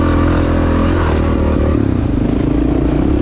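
A 1993 Honda XR600 and a small two-stroke dirt bike race close by on a forest trail, engines roaring and revving loudly together with clattering and scraping underneath.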